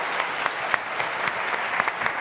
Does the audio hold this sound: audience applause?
yes